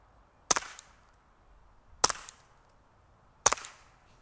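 .22 rifle shots firing tracer rounds at a homemade shooting range, three sharp cracks spaced about one and a half seconds apart, each with a short ringing tail, loud and close with no talking.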